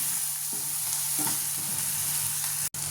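Green peas bhaji stir-frying in a pan crackles with a constant close, loud sizzle, with a few scraping stirs of a spatula breaking through and a brief dropout near the end. No voices are heard.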